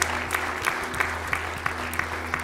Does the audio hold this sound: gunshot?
no